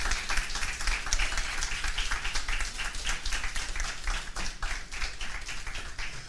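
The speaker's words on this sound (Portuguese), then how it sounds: "Pode aplaudir o Senhor, igreja." A church congregation claps during a worship service, a rhythmic, fairly close patter of hands with distinct sharp claps and a low rumble beneath, steady throughout.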